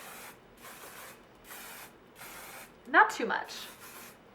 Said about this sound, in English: we are just gonna spray it all over our head